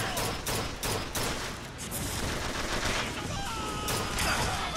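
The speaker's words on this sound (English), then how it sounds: "People are shooting." Gunfire in the video game Bioshock Infinite: a loud, continuous fusillade of rapid shots and sharp cracks layered over one another with no pause.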